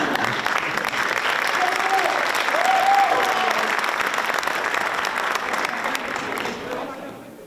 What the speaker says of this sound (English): Once again, nice round of applause for all of our student athletes tonight